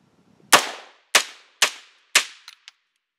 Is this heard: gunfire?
yes